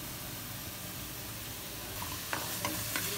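Grated carrot halwa with khoya fries in a pan for carrot barfi, giving a constant close sizzle. Scraping stirs of a spoon against the pan come in a few sharp strokes toward the end, with no talking.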